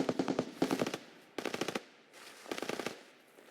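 Suppressed gunfire from Escape from Tarkov: three short bursts of rapid, muffled automatic shots with quiet gaps between them, fairly close and clear.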